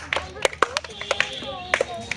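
Clapping from a small crowd at a children's bat-and-ball tower-toppling game, a quick burst of sharp, scattered hand claps lasting about two seconds, close and moderately loud with voices underneath.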